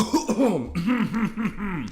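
A run of harsh, rhythmic coughs from one person, close and fairly loud, repeating in quick bursts for about two seconds.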